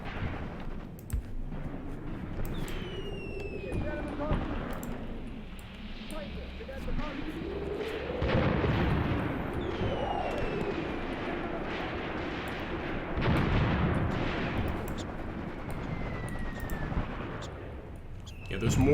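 Mortar and artillery fire booms in a WW2 battle in the game Graviteam Tactics: Mius Front, heavy thuds and rumbling blasts recurring over nineteen seconds at varying distances, with someone talking over much of it.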